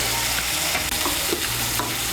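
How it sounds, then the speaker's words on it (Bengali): Bottle gourd leaves are stirred into spiced oil in a frying pan, producing a dense steady sizzle with a low hum underneath and faint scraping moments, short and close. "লাউ পাতাটাকে মিশিয়ে নেব ভালো করে"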